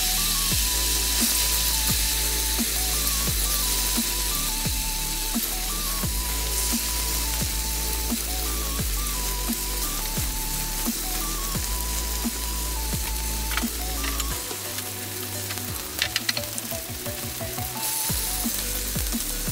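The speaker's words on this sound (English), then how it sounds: "alright, let's fry our tofu now" Tofu frying in a pan gives off a steady, bright sizzle like light rain, continuous and close, with small pops and crackles; a faint melodic tone runs underneath and a few sharper spatters come near the end.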